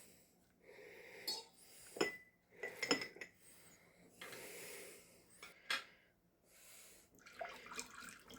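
Old Bay pickled shrimp is spooned into two glass jars along with peppers and onions, making intermittent close clinks and taps of a utensil on glass with soft wet shuffling between them.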